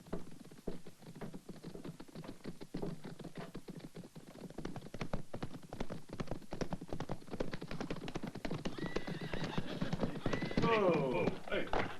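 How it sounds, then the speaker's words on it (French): Horse hooves clip-clop in a quick, irregular patter on a western film soundtrack, growing louder and busier as the horses draw near, with faint background sounds and no clear talk. "Je crois que j'entends les chevaux."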